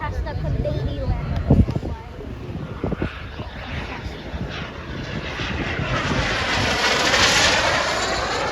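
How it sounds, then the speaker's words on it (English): An RC model F-16 Fighting Falcon jet flies overhead at an airshow, its engine roaring loudly. The roar swells and shifts in pitch as it passes and rolls, with a voice talking over it. "The F-16 Fighting Falcon is doing a nice slow roll right down the center line of the runway."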